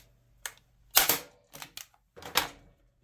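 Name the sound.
staple gun firing a 1/2 inch staple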